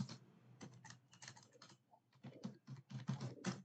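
Computer keyboard typing while entering SQL in MySQL Workbench: quiet, close bursts of quick keystrokes with brief pauses between words, and no voice.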